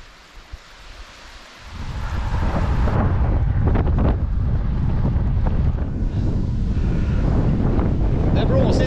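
Strong headwind buffets the microphone while cycling on Gotland, a loud, constant roaring rumble that swells in after a quieter start and stays dense and gusty throughout.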